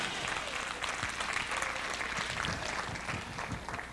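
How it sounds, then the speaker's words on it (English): A church congregation claps hands steadily and loudly for a few seconds during a Sunday evening service, a dense rhythmic applause filling the room. "Clap your hands."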